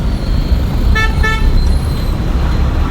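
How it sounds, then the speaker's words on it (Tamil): A car horn gives two short toots during a driving school lesson, set against a constant rumble of road traffic and engine noise. "ஹார்ன் வச்சுக்கோங்க"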